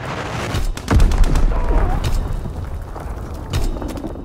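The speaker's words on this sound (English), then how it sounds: "Enemy bomb incoming. Get to cover." Heavy booms of enemy bombs strike a Battlefield-style online war game map, a loud blast at about one second and another near the end, over a steady rumble of distant gunfire and battle noise.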